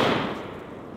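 A sawed-off over-under double-barrel shotgun fires quickly at a weathered steel plate: a loud, close blast that starts sharply and rings down through the second.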